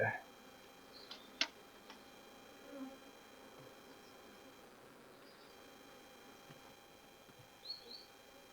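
Faint, steady buzzing of honeybees in a quiet setting during a hive split into a nucleus hive, with a few soft clicks and taps now and then.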